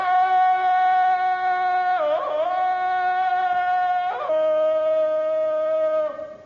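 A human voice imitating an ape's victory cry, long sustained wavering howls with pitch breaks, loud and close.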